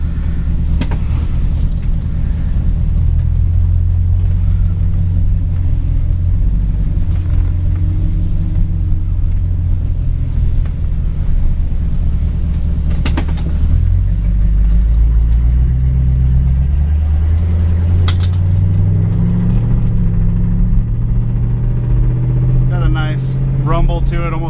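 A 1964 Ford Galaxie V8 with baffled exhaust rumbling at a steady, burbling idle with a slight cackle and a brief rise in revs partway through, loud and close, while someone talks over it.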